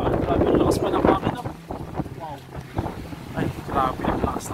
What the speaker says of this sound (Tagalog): Ay, grabe yung lakas ng hangin.